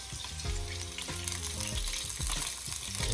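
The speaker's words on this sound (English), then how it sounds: "I'm just going to fry up my chicken breast" Oil sizzles and crackles steadily as chicken breast fries, a close, continuous hiss with no talking.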